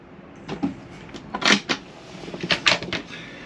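A drawer in a 2021 Carado i338 motorhome slides open and shuts a few times, with short scraping runs and light clunks, close and fairly loud, no voices.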